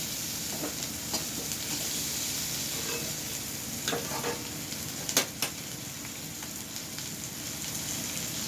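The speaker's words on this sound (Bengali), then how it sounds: "গ্যাসটা কিন্তু মিডিয়াম ফ্লেমে রেখেই ভাজবো। ভালো করে ভেজে নিচ্ছি।" Baby corn frying in hot oil on a medium flame, a steady close crackle and sizzle throughout with a few sharper pops and spatters standing out.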